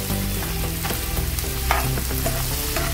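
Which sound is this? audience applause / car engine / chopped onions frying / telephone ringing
chopped onions frying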